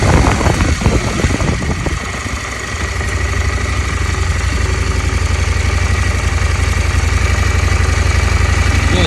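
A KTM motorcycle engine drones loud and steady at a low, constant pitch while riding slowly, with a rougher rumble in the first couple of seconds before it settles into an even hum.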